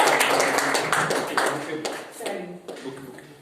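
Audience at an event clapping to welcome a guest, a brisk patter of many hands that thins into a few separate claps, with some voices underneath.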